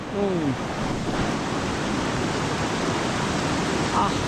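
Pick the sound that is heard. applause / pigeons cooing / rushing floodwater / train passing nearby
rushing floodwater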